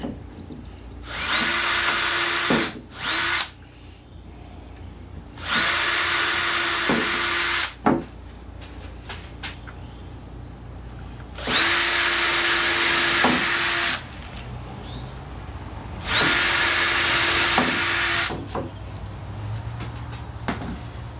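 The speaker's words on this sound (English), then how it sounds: "Drill the pilots" A power drill whirs in four sustained bursts of a few seconds each while drilling pilot holes, separated by short pauses and small clicks, close up and loud.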